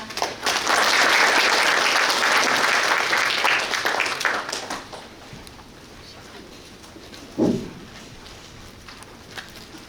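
Audience applause welcoming a speaker at a city policy talk show on ecological transport; loud sustained clapping for about five seconds, fading into quieter room noise with a brief thump.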